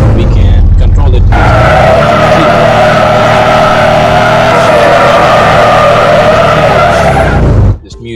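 A car in a Unity video game using a realistic car controller drives with a very loud, continuous engine roar and tire skidding for about seven seconds, then cuts off abruptly near the end.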